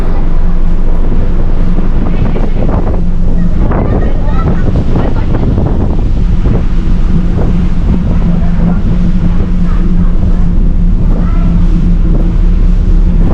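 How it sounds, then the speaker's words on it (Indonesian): Strong wind buffets the microphone on the deck of the KM Labobar passenger ship at sea, a loud continuous roar with low rumble from the vessel, while a voice talks over it. "Nah, tuh kapal Labobar, satu-satunya kapal terbesar ya."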